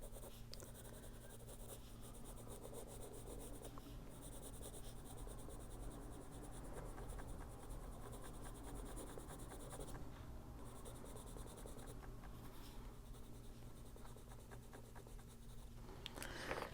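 A white pencil scratches steadily across paper in continuous fine strokes, close and soft, with a faint hum underneath and no talking.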